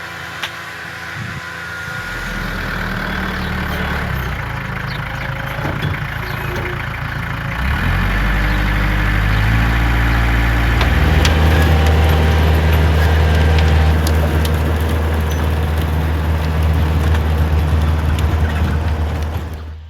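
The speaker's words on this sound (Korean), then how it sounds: "저는 뒤에 따라다니면서 이제 트랙터로 노타리질 하겠습니다" A tractor engine runs steadily with a low rumble, its note shifting and growing heavier midway as the rotary tiller works a rice paddy, with no voices.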